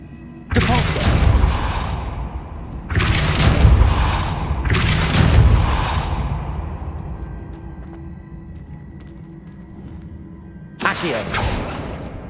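In the game Hogwarts Legacy, the Depulso force spell is cast several times: four loud, booming blasts with a whooshing rush, each decaying into a long rumbling tail and spaced a few seconds apart.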